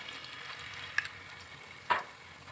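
Sour curd stirred into hot oil in a pan with a little ghee, a soft steady sizzle broken by two brief scraping stirs, close and quiet.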